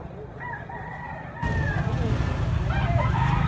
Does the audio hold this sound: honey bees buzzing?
no